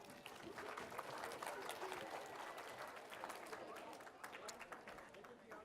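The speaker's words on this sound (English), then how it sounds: "give yourselves a round of applause" A youth conference audience claps for themselves, quiet, fairly distant applause that stays steady for several seconds.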